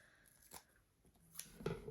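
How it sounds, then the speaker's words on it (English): Scissors snip through fabric for a Christmas hair bow, a few quiet crisp cuts in close succession with no talking. "I'm just going to cut a piece for the centre"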